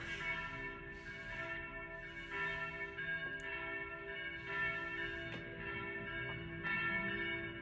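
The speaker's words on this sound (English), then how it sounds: "Those are the church bells in Paris" Church bells ring in Paris, a continuous wash of overlapping tolls from several bells that hum and shimmer at a moderate distance, steady and alone without talk.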